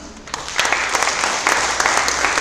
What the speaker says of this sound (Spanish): ¿Puede darle un aplauso fuerte al Señor?